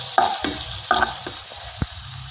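Ginger sizzling in a hot pan as the base for chicken tinola, a soft steady fry under a few sharp stirring scrapes and taps of a utensil against the pan, close up and without speech.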